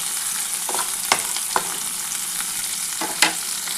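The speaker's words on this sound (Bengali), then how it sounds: "একটু হালকা করে ভাজা হলে আমি কলমি শাকটা দিয়ে দেবো।" Onion, garlic, green chilli and panch phoron frying in oil in a pan, a steady close sizzle with a few sharp scrapes of a spatula stirring.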